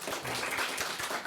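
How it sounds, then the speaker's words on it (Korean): A church congregation in Busan briefly applauds to welcome a visiting family, a short dense patter of many hands clapping together in a room. "우리 박수로 한번 환영하겠습니다."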